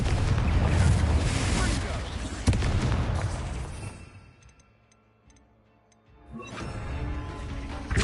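A Confringo blasting curse in Hogwarts Legacy erupts in a loud, sustained explosive roar that rumbles for several seconds, fades to near quiet with faint ticking, then swells again with another burst.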